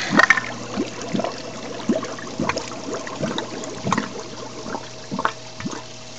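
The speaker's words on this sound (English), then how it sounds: "The water's starting to flow, and right out the side of the hose." Dirty water from a koi pond sand and gravel filter spills and splashes out the side of a hose in irregular gurgling spurts over a low steady hum, fairly close and moderately quiet.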